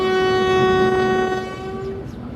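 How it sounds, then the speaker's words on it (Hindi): The Chenab Express sounds a long, loud, steady horn blast as it departs a station after the green signal. The horn fades out after about two seconds over a low rumble of the train. "ड्राइवर साहब ने ग्रीन सिग्नल दिया और उसके बाद ड्राइवर साहब जो हैं यहाँ से मूव हो चुके हैं।"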